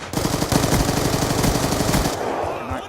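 Rapid automatic gunfire in a first-person shooter video game, a close, loud burst of sustained shots that stops abruptly.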